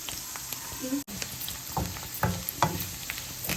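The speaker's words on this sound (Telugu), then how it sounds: "ఈ పోపు దినుసులు అన్నీ కొంచెం బ్రౌన్ కలర్ వచ్చేదాకా ఫ్రై అవ్వాలండి" Garlic, cumin, mustard seeds, curry leaves and chilies sizzle in hot oil for a Telugu prawn curry tempering, a steady crackling fry with scattered pops and stirring scrapes, close and fairly quiet, with a brief dropout near the start.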